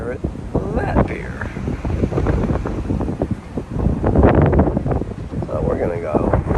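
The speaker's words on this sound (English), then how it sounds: "Very windy today." Strong wind at a cruise ship pier in Cozumel, gusting and buffeting the microphone in heavy rumbling blasts while people talk throughout.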